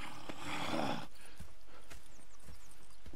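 Horses in the video game Red Dead Redemption 2: a burst of noisy movement at first, then sparse, distinct hoof clops and soft footfalls at a moderate distance, with no talking.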